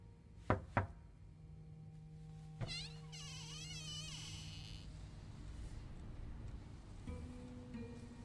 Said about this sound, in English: Maybe knock first?